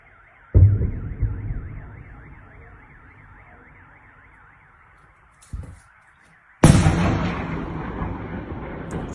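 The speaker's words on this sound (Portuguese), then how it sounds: "as bombas explodindo aqui" Heavy explosions strike during a bombardment of Melitopol. Two loud, sudden blasts with rolling decays sit between smaller thuds, while a warbling alarm wails steadily underneath.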